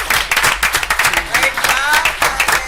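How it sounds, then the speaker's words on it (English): An audience at a city council meeting breaks into brisk, dense applause at close range, with a few voices cheering over the clapping. "Now we can clap."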